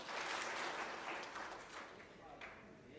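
An audience at a Vestige business training session claps together in a dense, steady burst, loudest at the start and slowly thinning out over a few seconds, with a faint murmur underneath.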